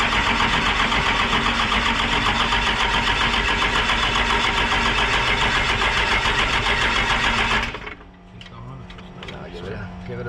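A 12 valve Cummins diesel swapped into a Ford OBS truck cranks and runs with a loud, continuous harsh roar and clatter, close by, that cuts off sharply near the end, leaving quiet rattles and faint voices.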